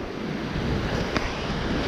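Rough sea waves on a shore where anglers cast lures for trevally make a loud, steady roar mixed with wind buffeting the microphone, with no talk.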